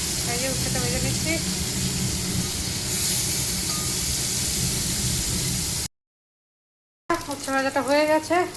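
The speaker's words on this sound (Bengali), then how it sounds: "উচ্ছেটা ভেজে নিচ্ছি।" Bitter gourd fries in a pan with a steady sizzling crackle while someone talks over it; the sizzle then cuts out briefly before her voice resumes.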